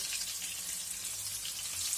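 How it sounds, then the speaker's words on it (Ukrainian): Chicken cutlets fry over medium heat in a pan, giving a steady, fairly loud sizzling hiss with no voices over it. "Смажу їх на середньому вогні"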